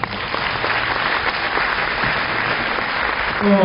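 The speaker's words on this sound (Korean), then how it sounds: "박수 부탁드리겠습니다" Steady applause from students at a university entrance ceremony and orientation, even and moderately loud throughout the short stretch.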